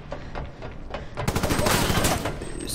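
Rapid gunshots in Resident Evil 6, a dense volley of firing that grows louder and denser midway, close and continuous over game background noise.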